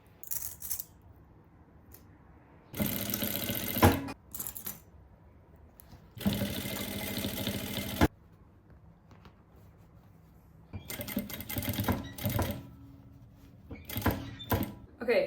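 A sewing machine joins denim pieces for two-tone jeans in two loud bursts of about one and two seconds, followed by shorter bursts, clicks and handling noises.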